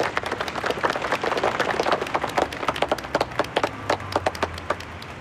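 A group claps in welcome for a newly named deputy chief of a fire station, dense applause that thins into scattered individual claps toward the end, fairly close and with no talking over it.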